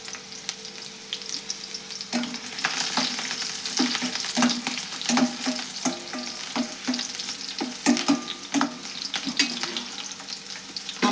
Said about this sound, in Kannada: ಇವನೇ ಎಣ್ಣೆ ಒಳಗೆ ಫ್ರೈ ಮಾಡ್ಕೊಳ್ಳೋಣ್ರಿ.